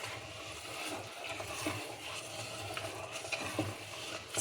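Mango sakkarai pongal with saffron-infused milk being stirred in a pot, giving a steady, close scraping and sloshing texture with a faint sizzle throughout and no talking.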